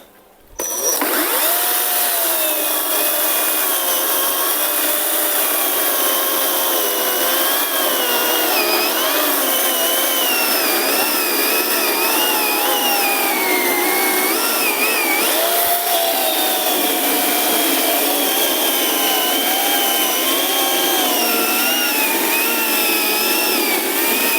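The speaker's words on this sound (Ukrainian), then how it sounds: "От ви могли бачити, це було пиляння не спіша" A Procraft PKA48Li cordless saw cuts slowly and unhurriedly, its loud motor whine starting abruptly and holding steady with slight pitch wavers for over twenty seconds, close and alone.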